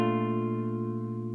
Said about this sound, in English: if you hear a major 7 chord, it sounds like this